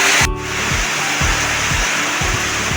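Heavy rain during a typhoon makes a loud, steady hiss close by, broken by recurring low thumps, with no voices over it.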